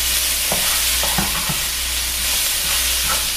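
Minced garlic sizzles in a hot pan as a base for Cincinnati chili, a steady close hiss and crackle with a few soft scraping strokes of a spoon, heard alone without talk.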